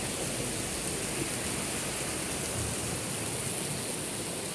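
Heavy rain pours at night on a road trip from Donsol to Bulan, a loud, dense, steady hiss of water with no breaks and no voices.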